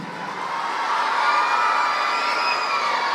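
A summer celebration audience cheers and claps for a woman-led music troupe, producing a steady, broad crowd roar with whoops, moderately loud and continuous, with no single voice standing out.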